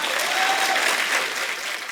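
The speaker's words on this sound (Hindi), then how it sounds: "ठोको ताली, ठोको ताली।" A studio audience at a televised comedy talk show applauds loudly, with a dense, steady burst of clapping that fades slightly toward the end.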